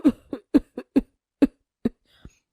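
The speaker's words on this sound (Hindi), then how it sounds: "वो जोर जोर से खांसने लगी" A woman coughs hard and loudly in a series of about seven sharp, close bursts, fading to a weaker final cough, with no talk over them.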